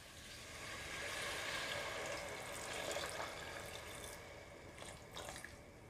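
Hot water poured into a pot of mutton curry, a steady splashing pour lasting several seconds before tapering into a few drips, close and fairly quiet.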